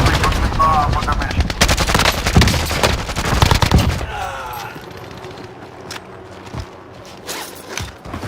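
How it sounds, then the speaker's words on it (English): Loud, close automatic gunfire in Call of Duty: Warzone, a sustained rattling burst for about four seconds that then drops to a few scattered distant shots and faint movement sounds, with a voice heard briefly. "I'm taking fire!"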